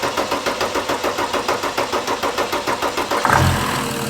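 A turbo diesel Mercedes engine cranks with a steady rhythmic churning for about three seconds, then catches with a loud surge and settles into a rough, loud idle nearby.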